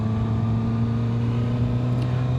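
Kawasaki ZX6R middleweight motorcycle engine running at a steady, moderate idle-like drone, close and continuous with no sharp revs, alone without talk.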